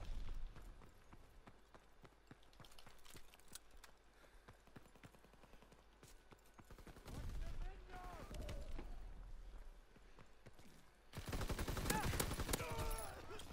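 Gunfire in the video game Call of Duty WW2, with repeated sharp shots and bursts over a continuous battle backdrop, growing louder and denser toward the end, while a player talks over it.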